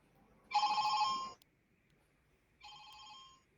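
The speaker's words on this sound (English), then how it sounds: "No, that's the phone ring that you have." A telephone rings twice, each ring a bright electronic trill lasting about a second, with a long pause between them in a quiet room.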